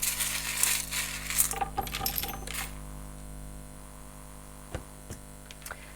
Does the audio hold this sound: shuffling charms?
yes